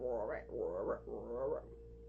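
A voice imitates a frog croaking, giving three quick, rising-and-falling ribbit-like croaks, close and fairly soft.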